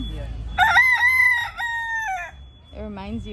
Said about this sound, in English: It's a rooster, right?